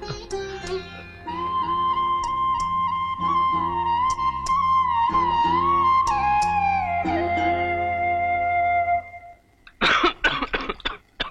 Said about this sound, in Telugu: ఏంట్రా అట్లా దగ్గుతున్నావు?